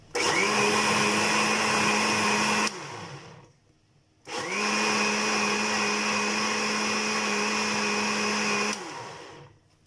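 Electric mixer beating ghee with a cup of milk: a loud, steady motor whir running for about three seconds, cutting out briefly, then starting again and running steadily for nearly five more seconds before stopping.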